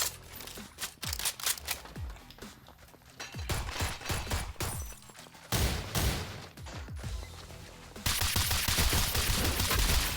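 Gunfire in the free-to-play shooter Black Stigma, where fighters use both fists and guns: repeated sharp shots, fairly close, in irregular bursts that grow into a denser, louder barrage toward the end, with no talking.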